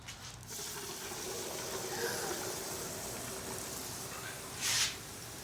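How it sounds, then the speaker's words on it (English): Liquid nitrogen poured into an ice cream mixture gives a steady hissing, bubbling rush, close and continuous, ending in a brief louder burst. "I'm gonna go ahead and pour some more liquid nitrogen in."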